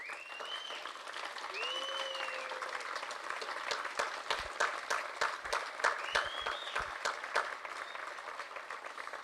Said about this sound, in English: So please, if you would stand and applaud your family and friends and loved ones.